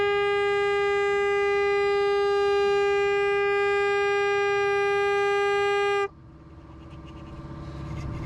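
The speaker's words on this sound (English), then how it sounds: "Got the trusty foghorn out." A handheld foghorn sounds on a sailboat in thick fog off the coast of Portugal, one loud sustained tonal blast of about six seconds that cuts off abruptly, leaving wind and water noise behind.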